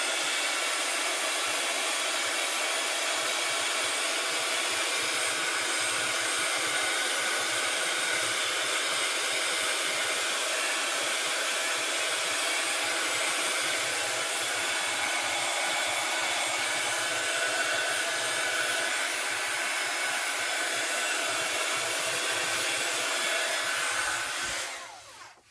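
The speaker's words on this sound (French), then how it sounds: "Je vais essayer de le sécher au heat gun." Heat gun drying craft texture paste, giving a loud, continuous, steady airy roar that holds for about twenty-five seconds and then cuts off.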